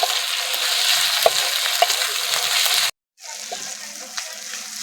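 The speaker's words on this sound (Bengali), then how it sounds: "আদা রসুনটা ভালো করে ভেজে নেব।" Ginger and garlic fry in a pan for an egg curry, giving a steady, close sizzle that cuts out for a moment and then resumes slightly softer.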